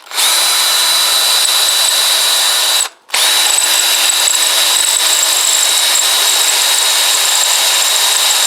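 A loud power drill whines steadily while drilling through a plastic stud, cuts out briefly for a moment, then resumes at the same high, even pitch.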